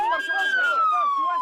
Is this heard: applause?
no